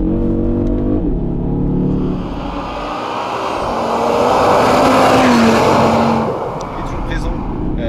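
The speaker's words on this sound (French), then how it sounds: "On avait peur que les beaux moteurs disparaissent, mais celui-ci et sa sonorité si particulière" An Audi RS Q3 Sportback (2020) engine runs loudly with a throaty, revving note that rises and settles, while people talk over it throughout.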